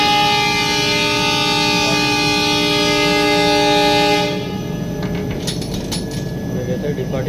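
Vivek Express train at a station, a loud sustained horn blaring for several seconds before cutting off, followed by rumbling rail noise and clanks as it departs, with voices faintly under it.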